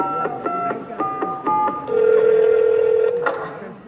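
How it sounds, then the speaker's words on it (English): A telephone number is dialed on a touch-tone phone: a quick series of separate keypad beeps, then a single longer held tone, then a click, all loud and close with no talking. "so he dialed the number"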